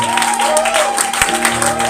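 A church congregation on its feet applauding and cheering in praise, a dense wash of clapping and voices mixed with a sustained organ or keyboard tone and some shouting throughout.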